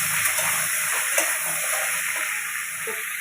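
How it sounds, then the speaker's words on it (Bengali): Vegetable stalks fry in a pan for a Bengali mustard paturi, a steady close sizzle with soft scraping stirs and light clinks throughout, without talking. "ঢাকাটা দিয়ে একটু নেড়ে চেড়ে নিচ্ছি।"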